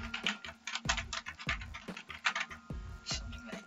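Typing on a computer keyboard while filling in a document in MS Word, with quiet, close-miked clacks in an uneven rhythm and occasional heavier key thumps.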